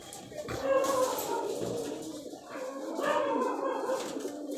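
A local Rajshahi high-flyer pigeon with large feather-covered feet coos in low, rolling calls at close range, with a voice and other background noise around it.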